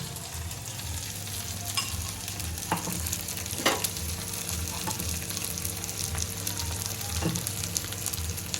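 Capsicum frying in a pan for frankie noodle filling, a continuous close sizzle with a low steady hum underneath and a few scattered scraping stirs of the utensil.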